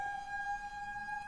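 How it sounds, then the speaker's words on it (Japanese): A police car siren sounds as a steady, sustained wail that holds loud and close for the whole moment, with a faint low rumble beneath and no talking. "パトカーが去っていきましたね"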